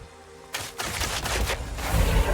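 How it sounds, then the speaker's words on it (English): A rapid burst of gunfire aimed at targets in the video game Crimson Desert, several loud sharp shots in quick succession followed by rumbling booms, close and alone without talk. "Shoot all 4 of those targets"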